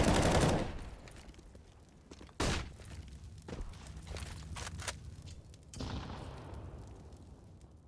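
AK rifle gunfire in a Counter-Strike match on the Dust 2 map: bursts of sharp shots and rapid fire at moderate distance, mixed with footsteps and other game sounds, no talk over it.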